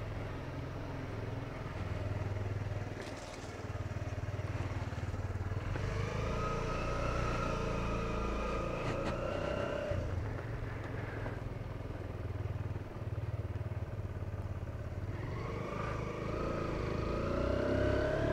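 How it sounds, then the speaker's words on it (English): A Kawasaki Z125 Pro mini bike engine drones steadily while riding, rising and falling through gears with small bursts of revving and wind noise, and no talking. "This is what it's like to ride the Z125 Pro."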